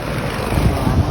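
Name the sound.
heavy rain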